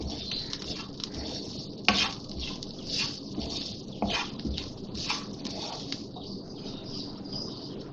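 Samosa filling is stirred in a pan over a very low flame, giving soft patter and scraping with a few sharper clinks of the spoon against the pan, close and quiet.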